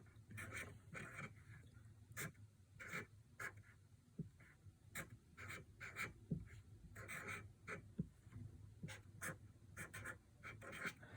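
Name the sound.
writing by hand on paper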